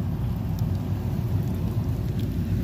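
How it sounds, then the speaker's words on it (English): Steady rain falls on a gray morning outdoors, a constant even wash with no talking and no distinct drops standing out. "nice and rainy."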